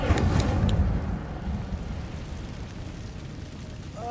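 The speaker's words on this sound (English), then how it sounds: "Incendio!" An Incendio fire spell is cast in Hogwarts Legacy, releasing a loud roaring whoosh of flame that bursts at once and then fades into a long, rumbling tail.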